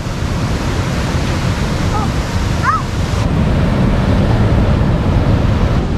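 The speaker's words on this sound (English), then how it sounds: "look at those waves" Ocean waves break along the Bermuda shore in a dense, continuous roar mixed with wind buffeting the microphone, and a brief voice surfaces partway through.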